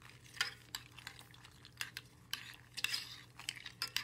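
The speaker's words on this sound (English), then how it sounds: "Now we gotta stir it. All right, let's just mix it up." Food is stirred and mixed in a pot with a utensil, giving a series of scraping clinks and soft scrapes that come in irregular bursts close up, with a quiet background hum and no talking.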